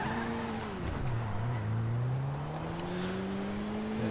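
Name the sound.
car driving in video game GTA 5 Online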